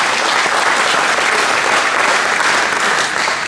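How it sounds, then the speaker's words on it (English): Loud, even applause from the audience at a youth basketball clinic, a dense wash of clapping that holds steady for about three and a half seconds, then stops abruptly. "Give them a round of applause."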